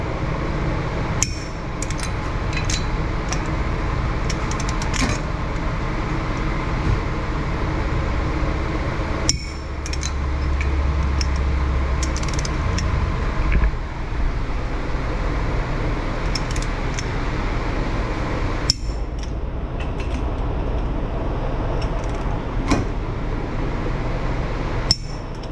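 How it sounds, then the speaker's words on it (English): A torque wrench tightens lug nuts to 100 foot-pounds on a wheel spacer fitted to a Ford Mustang GT, giving a few sharp, isolated metallic clicks spread apart over a steady low background hum. "Now I can apply lug nut torque"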